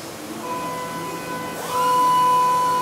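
Brand-new Kiwa two-pallet machining center running in a forging shop: a steady mechanical hum with sustained whining tones and a sweeping pitch shift as the spindle changes speed, growing louder toward the end.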